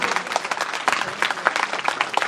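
Audience applause at a jasgeet song competition prize-giving, a dense patter of many hands clapping steadily for a couple of seconds in a gathered crowd.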